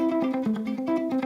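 Electric guitar picked in a quick, steady repeating pattern of ringing notes that imitates a tempo-synced delay, played clean and alone at a moderate level.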